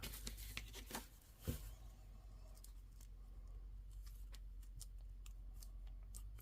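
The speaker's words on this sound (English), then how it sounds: "I just kind of angle my scissors a little and cut" Scissors snip through paper in a run of short, crisp cuts, close by and fairly quiet, with a faint steady hum underneath.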